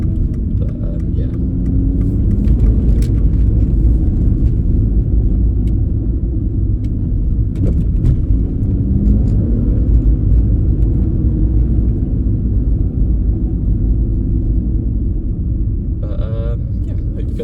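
A 2014 Aston Martin Rapide S with a 5.9 V12 engine on a test drive, giving a steady loud cabin rumble throughout with brief revs, while a person talks over it.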